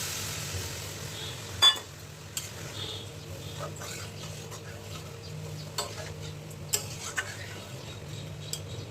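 Masala spices frying in oil in a pan for a fish curry, a faint low sizzle with occasional light clicks and one sharper knock of a utensil, quiet and close, no speech.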